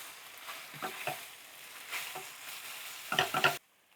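Tofu sizzles and is stirred and tossed in a hot pan for pad thai, a soft steady frying hiss with several scraping stirs and a brisk clatter of tossing near the end, close and moderately quiet.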